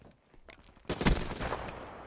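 Gunfire from the Call of Duty Black Ops 3 video game starts after a quiet moment as a dense burst of rapid shots with loud cracks, close and continuous to the end.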